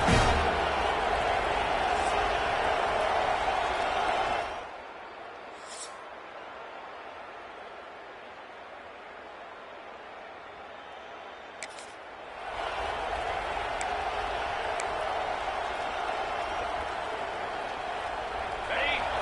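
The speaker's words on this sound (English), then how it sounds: "This crowd, full throat, splitting the eardrums" Stadium crowd roars in an EA Sports College Football video game matchup of Ohio State versus Washington, a loud sustained wash of cheering that drops out mid-way and then swells back, with commentators talking over it.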